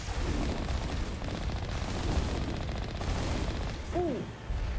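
Turret gunfire in Mass Effect Legendary Edition, with dense, continuous rattling fire and rumbling blasts under a steady combat din, no voices.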